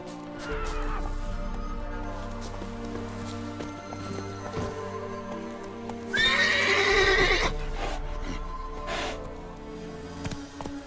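Horse neighing with clip-clop hooves in the video game The Witcher 3: Wild Hunt (next-gen), a loud whinny rising over steady hoofbeats and game ambience midway through, with quieter hoof sounds before and after.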